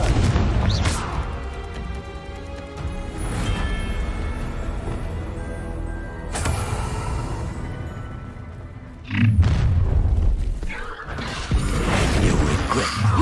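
A Confringo blasting curse in the Hogwarts Legacy video game, loud roaring blasts and crashing explosions layered over a dense game soundtrack, with a heavy burst near the end.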